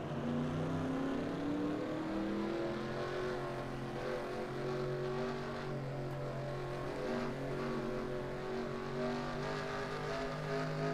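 NASCAR race cars running on track during a race, a steady loud drone of engines with layered tones rising and falling as cars pass, continuous throughout with no talk.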